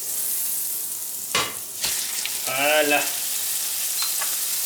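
Burger meat dropped into a hot pan hisses and sizzles steadily, with a couple of sharp clatters from handling and a brief spoken word over the frying.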